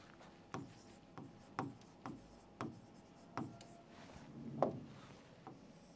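A pen scratches across paper in short, evenly spaced strokes, about ten distinct scrapes in a row, close and fairly quiet with brief pauses between them.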